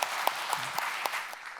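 At the close of a symposium panel session, the audience applauds, with a sparse scattering of distinct louder claps standing out over a soft, even bed of clapping from the crowd.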